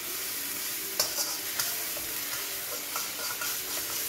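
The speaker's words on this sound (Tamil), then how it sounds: "இதை வந்து ஒரு 30 seconds ஃப்ரை பண்ணுங்கள்" A sauce of tomato ketchup and vinegar fries in a pan for gobi manchurian: a steady, close sizzle with occasional stirring scrapes and clicks.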